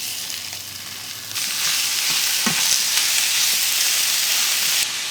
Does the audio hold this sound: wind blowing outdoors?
no